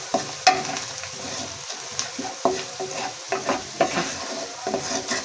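Spice masala with turmeric and chili fries in oil for sarson ka saag, sizzling close up while a spoon scrapes and taps the pan in a quick, uneven rhythm.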